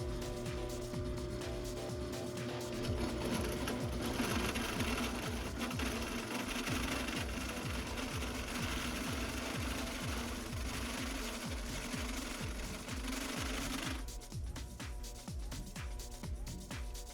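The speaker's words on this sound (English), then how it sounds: "I went to the Atlas drill press and used a step drill bit to drill a 1/2 inch hole for the caster" An Atlas drill press with a step bit, lubricated with Tap Magic cutting fluid, bores a 1/2 inch hole for caster stems in metal for a plasma and water CNC table, a steady motor drone with rhythmic cutting chatter that changes near the end.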